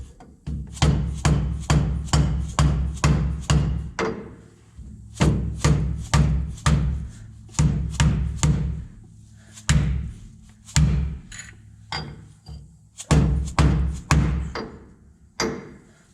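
A socket serves as a driver, hammered to tap a rear pinion seal into place on an 89 Toyota: a long series of sharp, close metallic thuds in quick rhythmic bursts, with short pauses between groups.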